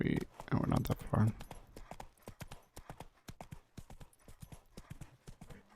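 Roach the horse trotting in The Witcher 3, a crisp, regular clip-clop of hooves that starts under a short burst of talking and then carries on alone at an even pace.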